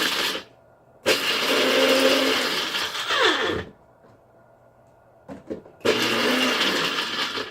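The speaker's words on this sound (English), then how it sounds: "So we're going to take that, we're going to grind it just a little bit." A blender or food processor grinds cut almonds in three loud, close bursts: a short first pulse, a long whirring run that winds down, then a final sustained grind after a brief rattle, with quiet pauses between.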